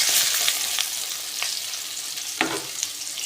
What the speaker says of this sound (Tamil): வெண்டிக்காய் வந்துட்டு எண்ணெயில் போட்டாச்சு